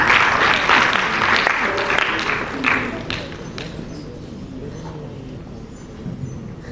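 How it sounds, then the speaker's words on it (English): A room of attendees applauds members of the SLPP, dense clapping that starts strong and thins out into scattered claps, with murmured voices rising underneath as it fades. "A big round of applause for my brothers from the SLPP."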